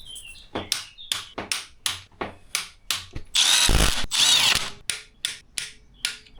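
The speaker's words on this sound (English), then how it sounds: "you can use the power wrench" A power wrench tightening bolts on a Land Rover Discovery 4 SDV6 Ford V6 engine during assembly. It gives a rapid string of short, sharp mechanical bursts with one longer sustained run midway, loud and close, with no talking.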